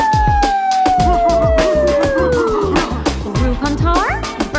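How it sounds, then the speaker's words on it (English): A dog howls in long, falling wails that rise again near the end, over a loud, rhythmic musical backing of a birthday song, with a voice talking. "My dog says, ah, woo."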